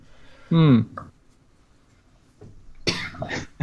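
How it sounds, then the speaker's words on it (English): A single sharp cough rings out close by, followed by a short pause and then a person speaking briefly. "Nah, it's a cough."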